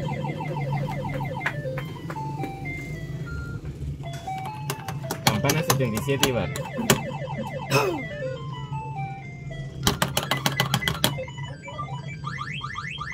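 Arcade-style fruit slot machine playing electronic jingles, with rapid descending beeps, bursts of fast tones and ringing chimes, loud and close while someone talks over it.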